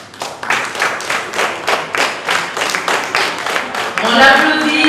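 An audience at a spelling contest gives the winner rhythmic, evenly spaced rounds of clapping, close and loud, with a few voices rising near the end.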